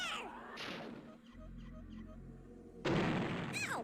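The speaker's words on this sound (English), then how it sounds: "This sentry is going to do this shot every time" Sentry gun firing a shot in the video game Worms Armageddon, a sharp burst opening the clip, then a low rumbling hum with small chirps, and a second loud broadband blast near the end.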